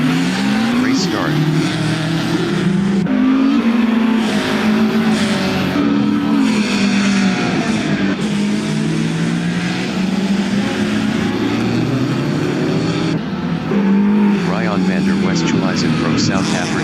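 Race cars in a SATCAR Revival Series event roar off the start together, a loud, sustained engine drone with shifting pitch as they accelerate, while a commentator talks over the top.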